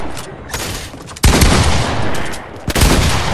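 A heavy shotgun firing in a video game: loud, abrupt blasts with a sharp one about a third of the way in and another near the end, over dense continuous gunfire noise; no talking.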